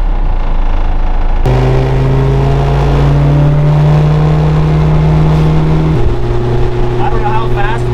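An old car called Ed's Golden Nugget, back on the road after 40 years, cruising at highway speed with a loud, close, steady engine and road roar whose pitch shifts twice as the revs change.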